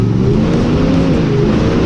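A monster truck's heavy engine roars loudly and steadily at a drag race, a deep low rumble accelerating hard with no letup.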